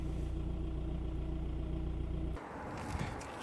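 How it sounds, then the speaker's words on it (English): A 2006 Audi A4 2.0 TDI diesel idles while warming up, a steady low throb that runs evenly until it cuts off abruptly, leaving quieter background noise behind. "I'm going to allow the engine to warm up a little bit more"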